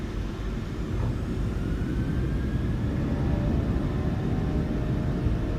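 A PMDG 737 airliner spooling to takeoff thrust in Microsoft Flight Simulator 2020 makes a steady, heavy engine roar and rumble with a faint rising whine, constant and unbroken throughout.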